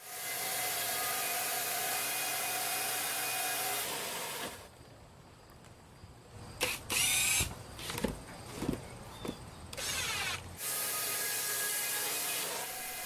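A homemade wooden bandsaw sawmill cuts through a spruce log, giving a steady loud saw roar that drops away midway into quieter scraping and knocking, then returns at full strength.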